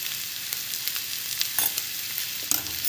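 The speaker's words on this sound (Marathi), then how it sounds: "थोडं दोन मिनिट फ्राय करून घेऊया" Potatoes with salt frying in a pan, a dense, even hiss of hot oil close by with a few light clicks and scrapes of stirring.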